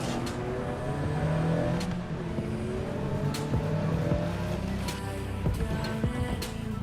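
A car in Cyberpunk 2077 drives steadily through Dogtown, a constant engine drone with rumbling road noise and occasional sharp knocks or bumps, fairly loud and continuous.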